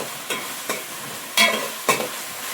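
Gongura chicken curry masala frying in a pan, with a spoon stirring it through: a steady soft sizzle under four distinct scraping strokes, spaced irregularly, close and fairly loud, no voices.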